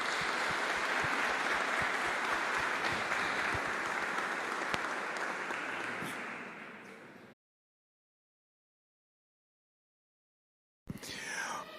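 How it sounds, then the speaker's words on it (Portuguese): A church congregation applauds steadily during a missions service, a dense sustained clapping that fades out, then a short silence before a brief burst of sound returns. "Vamos aplaudir ao Senhor."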